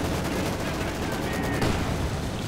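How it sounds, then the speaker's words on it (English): An IS-2 tank's 122mm gun firing in the video game Company of Heroes 2, heard amid a dense, continuous roar of battle gunfire and explosions, loud throughout. "And there we go, 122mm gun firing right there."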